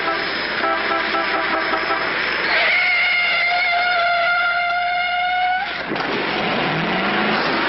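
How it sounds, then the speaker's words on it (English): Cartoon car driving recklessly, a loud engine roar with rising horn-like tones and screeching, held steady and close before a sudden drop near the end. "Pretty reckless driving."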